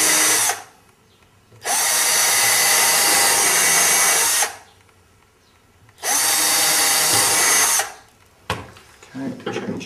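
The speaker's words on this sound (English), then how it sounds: "Get the cordless drill, again drilling nice and straight." A cordless drill bores pilot holes into a wooden upright held in a vise, two loud sustained whirring bursts of a few seconds each separated by quieter gaps, followed by brief handling clatter.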